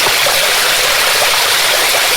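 Mountain spring water flowing close by, a loud continuous rushing and splashing stream with no talking over it.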